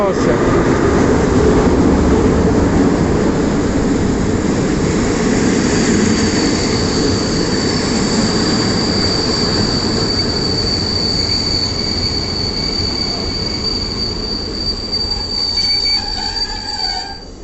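A train rolls through Tarnów railway station in Poland, its wheels giving a loud, sustained, high-pitched squeal over a constant rumble of rail noise, close by and unbroken from start to finish.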